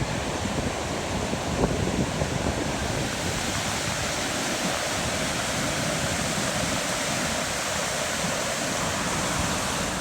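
Rushing river water at Great Falls, Maryland, running high: a loud, steady broadband roar of churning flow, continuous and close, with wind buffeting the microphone and no voices.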